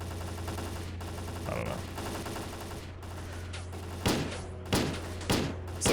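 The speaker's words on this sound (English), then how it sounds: "They're not even shooting him. They're shooting at us." Gunfire in the video game STALKER: Clear Sky, heard as a few sharp, loud shots spaced about half a second apart toward the end, over a steady low hum, with a brief spoken remark earlier.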